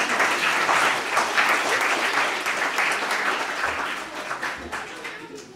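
An audience at a live show applauds a performer named Nikita, a loud burst of clapping that thins toward the end, with a few voices mixed in.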